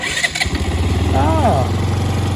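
A Benelli BN 125 motorcycle engine cranks briefly, catches and settles into a steady, loud idle at close range.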